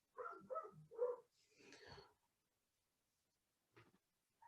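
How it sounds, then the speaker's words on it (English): A dog barks three times in quick succession, followed by a rougher bark or whine, then a pause and a couple of faint further yips, clear and close in an otherwise quiet room. "Sorry about the barking dog."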